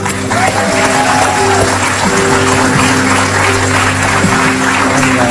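Studio audience applause on an Indonesian TV talk show, a steady dense wash of clapping filling the whole stretch at high level, with musical tones and a faint voice underneath.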